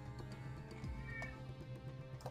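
A house cat meows loudly nearby, a drawn-out, wavering complaint heard alone over a quiet indoor background.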